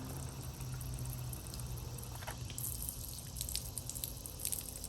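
Water sprays from the nozzle of a camping solar shower with plenty of volume, a steady hissing, pattering stream that runs continuously and close for the whole stretch.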